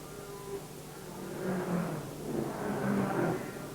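A 1950 Indianapolis 500 race car pulls away from the pit after a fire, its engine swelling in two faint revving surges over distant crowd noise.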